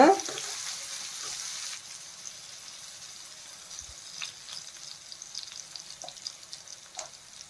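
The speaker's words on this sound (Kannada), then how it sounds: "low ಫ್ಲೇಮಲ್ಲಿಟ್ಟು fry ಮಾಡ್ಕೋಬೇಕಷ್ಟೇ" Sliced okra fries gently in a pan over a low flame, a soft steady sizzle that starts a little louder and then settles, with occasional faint clicks and stirring sounds.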